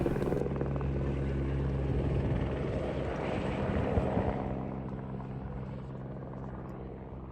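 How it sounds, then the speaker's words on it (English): Helicopters ferry concrete to a mountain construction site near Tromsø, Norway, their rotors beating with a loud, steady thumping drone that fades somewhat toward the end. "within a few minutes you'll see helicopters flying concrete for construction up in the mountain"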